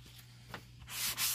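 A sanding pad rubbing over the front of a rustic farmhouse-style wooden sign, a faint quiet start giving way to two louder, close, breathy scraping strokes near the end.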